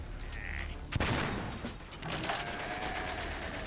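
Gunfire in the World War I video game Valiant Hearts: The Great War, with a sharp blast followed by rapid bursts of machine-gun fire rattling on at moderate loudness.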